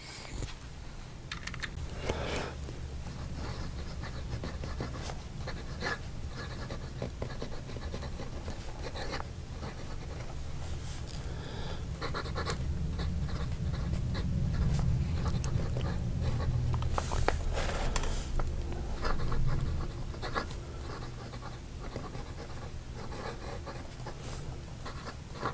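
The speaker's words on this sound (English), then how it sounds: "I'm going to write with this unposted because I think that's better." A Cross sterling silver fountain pen with a generously wet nib, written unposted, scratches and glides across paper in close, continuous strokes with small taps and pauses, no voices.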